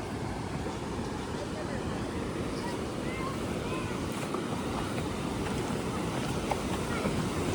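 River water flows in a dense, constant rushing wash with some wind buffeting the microphone, loud and unbroken throughout.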